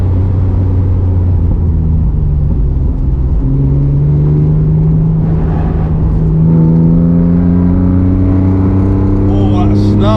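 A Jaguar V6 swapped into a Rocketeer Mazda MX-5 sports car snarls as it accelerates, its pitch climbing steadily over a loud, continuous engine rumble.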